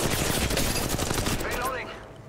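Rapid automatic gunfire in Apex Legends rattles close and loud in a steady stream of shots, tapering off toward the end with voices in the background.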